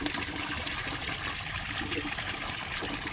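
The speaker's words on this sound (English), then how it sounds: "So already I can see the water is definitely flowing a lot more" Water flowing steadily through a 1.5-inch black pond hose, a continuous trickling gush with even level throughout.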